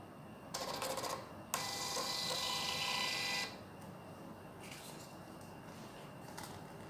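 A MINIPOS MP-RP58AB thermal Bluetooth receipt printer printing a logo gives a short burst of buzzing and then a longer steady whirring feed of about two seconds, close and clear, followed by quieter faint clicks.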